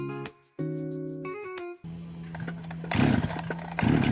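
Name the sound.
Neotec chainsaw engine being started with starter rope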